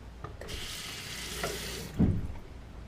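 An alum block is rinsed under a running tap, giving a steady gush of water for about a second and a half, then a brief splash and knock as the stream is interrupted.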